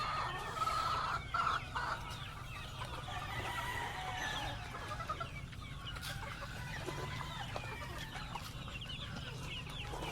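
Chickens and young chicks at a breeding setup cluck and peep steadily throughout, with a busy, continuous flock chatter close by and no talking.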